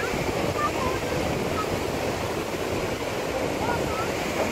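Ocean waves break continuously on the seashore in Colombo at night, a dense, steady wash of surf with some wind noise across the microphone.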